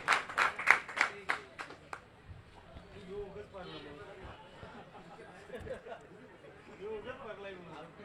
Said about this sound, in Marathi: या खेळाडू वृत्तीसाठी जरा मित्रांनो एकदा जोरदार टाळ्या होऊन जाऊ द्या.